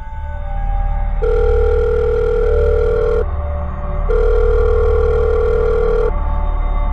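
Telephone ringback tone on a night-time radio call-in show, two long steady rings separated by a pause over a low background hum.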